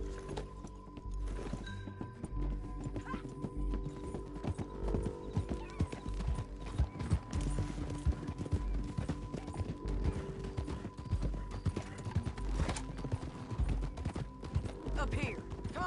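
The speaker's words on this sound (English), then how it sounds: "Hope that horse ain't lame." Horse hooves clip-clopping at a steady walking rhythm along a road in a Wild West video game, moderately close under background game music and ambience, with an occasional whinny.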